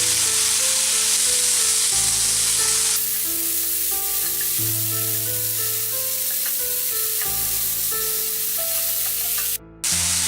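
Ginger, garlic, mint, coriander leaves and tamarind fry in a pan, giving a loud continuous hissing sizzle that holds steady throughout, with a faint tonal hum underneath and a brief cut near the end.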